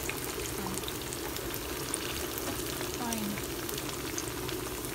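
Plantain slices fry in hot oil, giving a steady close sizzle and bubbling that holds at an even level throughout, with no clear voices over it.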